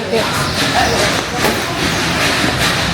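A train in Kaohsiung, Taiwan rumbles along steadily, with a continuous broadband roar and faint rhythmic clatter, loud and close throughout.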